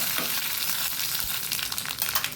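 Curry leaves frying in hot oil in a pan with the heat switched off, a loud, dense crackling sizzle that runs continuously throughout.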